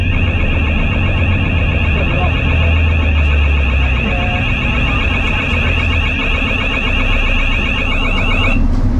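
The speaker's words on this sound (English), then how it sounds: "Cahill signals for the fire alarm to be set off in the boat's fuel tank compartment." A fire alarm sounds continuously and loudly in the fuel tank compartment of an RNLI lifeboat, a steady, shrill electronic tone that holds for the whole stretch over a low engine rumble.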